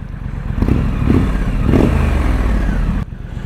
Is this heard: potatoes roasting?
no